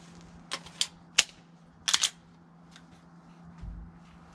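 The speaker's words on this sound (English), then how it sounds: "put a few rounds through the gun." Shots from a Walther PDP 9mm pistol with upgrades at a shooting range sound as a handful of sharp, fairly distant cracks, singly and in a quick pair, over low background noise.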